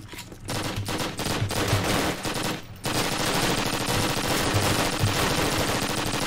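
Rapid automatic gunfire in a multiplayer shooter video game, loud and dense, with sustained bursts of shots broken by a short pause before firing resumes without letup. No talk.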